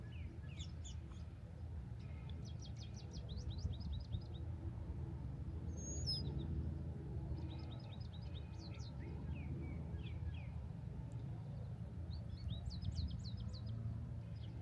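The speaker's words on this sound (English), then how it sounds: "Feel the presence of nature with the sound of birds," Outdoors in nature, small birds sing bright chirping trills in repeated bursts, fairly distant, over a steady low rumble of wind or ambient noise.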